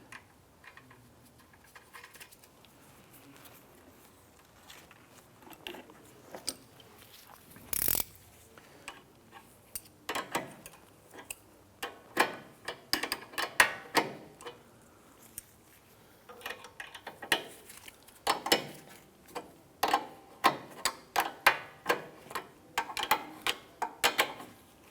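A ratchet clicks in quick bursts, tightening a nut on a rear lower transmission mount of a 2004-2008 Acura TL, with faint handling noises and one sharp knock early on.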